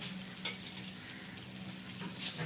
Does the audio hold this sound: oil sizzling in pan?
yes